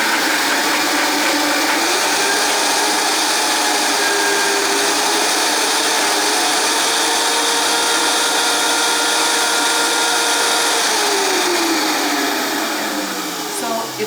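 Vitamix blender running on mushroom stroganoff ingredients, a loud, steady high-powered motor whir with a dense grinding roar that holds for the whole stretch, wavering slightly near the end.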